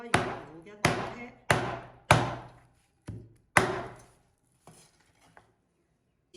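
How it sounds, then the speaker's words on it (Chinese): A knife chops through a fish head on a cutting board, a cleaver-style blade for a Huanggang fish soup, giving six sharp, close thunks at roughly even intervals, followed by a couple of faint taps. "片完以后，再给把鱼头给它打开"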